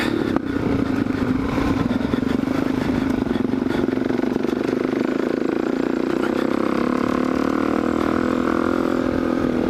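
A cold Kawasaki KLX470 dirt bike engine warms up at idle out in the West Desert, a steady close mid-pitched motorcycle drone running continuously with a slight rise in pitch toward the end, no talking.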